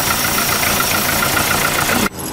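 A VW Polo 4 engine idles loudly up close with a faulty bearing, making a steady, dense mechanical drone that drops away abruptly near the end.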